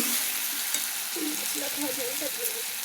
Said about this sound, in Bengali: ততক্ষণ মশলা ধোয়া জলটা এর মধ্যে দিয়ে দিলাম